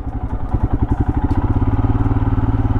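Royal Enfield Himalayan adventure motorcycle on off-road tyres riding over a dry, once-slushy dirt trail, its single-cylinder engine thumping in a steady, loud, close pulse with rattling clatter.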